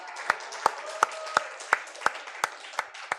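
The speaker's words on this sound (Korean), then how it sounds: "박수 한번 쳐주십시오." Applause from a church congregation at a Friday praise service: sharp, evenly spaced hand claps in a slow rhythm, about nine beats, close and fairly loud over a soft background of murmuring.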